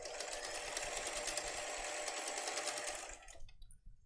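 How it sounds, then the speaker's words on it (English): A Bernina sewing machine sews a straight stitch in a fast, even rattling chatter, close and continuous for about three seconds before stopping into quiet. "I just did 2 lines of straight stitching"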